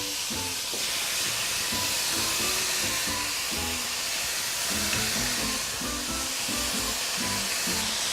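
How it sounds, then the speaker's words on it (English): Thinly sliced flank steak for carne asada sizzles in a pan with a steady, dense, close hiss, with scattered clinks and scrapes underneath. "now I'm gonna start putting this right into the pan"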